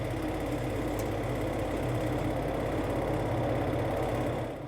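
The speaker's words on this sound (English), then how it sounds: "we finally got the engine started and started taxiing" A steady, low light-aircraft piston engine drone idles continuously with a faint knocking rhythm, fairly loud and unchanging throughout, no voices. The aircraft is a Sling HW.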